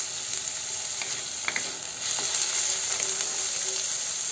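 Onions frying in a pan for poha give a steady, close sizzle with a few faint clicks and a slight rise in intensity midway, with no voices.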